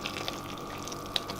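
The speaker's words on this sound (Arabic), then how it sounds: "بعد ما غلينا المي مع الزيت راح نحطها فوق الطحين" Hot boiled water mixed with oil poured onto flour for dough, heard as a soft, steady trickling pour with faint bubbly splashes, close and fairly quiet, with no voices.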